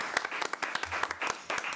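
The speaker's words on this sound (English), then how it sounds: "And they need a hand clap" Brief hand clapping from a school board meeting audience honoring a basketball team, a short burst of scattered claps that is moderately near, with no talk over it.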